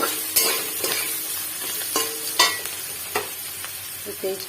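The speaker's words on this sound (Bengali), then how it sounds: "পেঁয়াজগুলো ভালো করে ভেজে নেবো একটু হালকা করে নুন দিয়ে দিচ্ছি" Onions frying with salt in a pan, a loud close sizzle broken by repeated spatula scrapes and knocks against the pan at an irregular pace, no voices.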